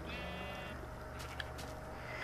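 Sheep bleat close by in a steady, wavering cry over a constant low background hum, with a couple of faint clicks toward the end and no talk.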